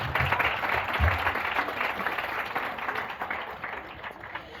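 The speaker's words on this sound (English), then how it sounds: "let's give them a round of applause" Audience applause at a community guild event, a dense wash of clapping from a crowd that holds steady and slowly thins over several seconds, moderately loud with no voices over it.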